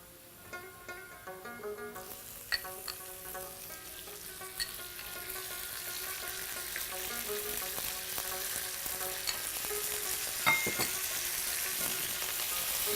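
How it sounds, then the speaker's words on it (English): Beef frying in a pan at home. A low sizzle grows gradually louder, with scattered clinks and stirring scrapes near the start and no talk. "Now we'll put our beef."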